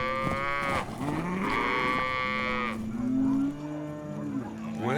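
Cattle low in repeated loud, drawn-out moos, several overlapping calls from a herd close by, with no talk.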